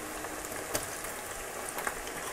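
Potato fries for homemade French fries bubble in hot oil, a steady, dense crackling sizzle with a few slightly louder pops, heard alone.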